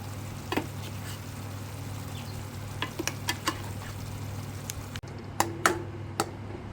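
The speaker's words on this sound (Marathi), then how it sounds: "मिक्स करूया त्याला छानपैकी." Tomato masala with coriander being stirred in a frying pan, a low steady sizzle under a background hum with scattered soft clicks and scrapes of the spoon, no voices.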